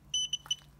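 A RADEX radiation dosimeter gives a few short, sharp electronic beeps right after being switched on, close and clear, with no talking.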